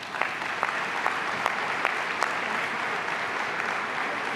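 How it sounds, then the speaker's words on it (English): Steady audience applause fills a ceremony honoring 2012 Everyday Heroes, with dense, even clapping throughout and a few sharper claps standing out from the crowd. "Thank you, Bonnie, and let's give another round of applause for all of our 2012 Everyday Heroes"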